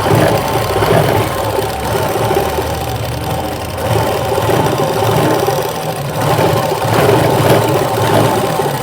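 A sewing machine stitching a blouse whirs in a continuous mechanical hum, a little rough and uneven, running steadily from start to finish.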